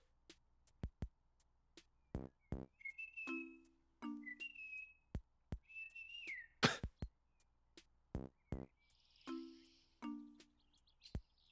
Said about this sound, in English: That's not a bird. That's a chipmunk.